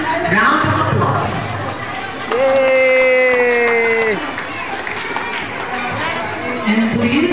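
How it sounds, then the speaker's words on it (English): A graduation audience makes a loud, steady wash of crowd noise with cheering and chatter, voices rising over the hubbub and dipping briefly before swelling again. "Let's celebrate our graduates with one final time with a resounding round of applause."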